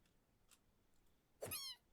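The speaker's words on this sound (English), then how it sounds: "Oh, it is a plushie. It meows." Cat plushie in Minecraft giving one short, faint high meow near the end after near silence with a tiny earlier click.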